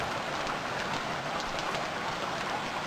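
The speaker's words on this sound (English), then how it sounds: "It's rainy." Steady rainfall in the survival game Stranded Deep, an even hiss of drops with faint patters, continuous and fairly quiet for a few seconds with no voices.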